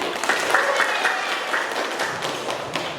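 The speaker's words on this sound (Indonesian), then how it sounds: "Kasih aplaus buat kelompok 1." A classroom group gets a burst of applause, steady clapping from many hands in a room that fills the whole moment, with a voice briefly heard over it.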